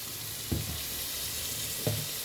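Onions frying in hot oil with salt for an egg curry, a steady bright sizzle with two soft stirring knocks from a utensil in the pan.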